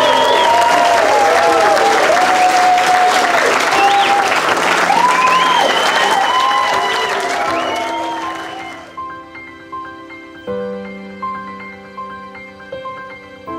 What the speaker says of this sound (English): you may now kiss and we may now cheer